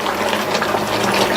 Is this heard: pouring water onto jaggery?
yes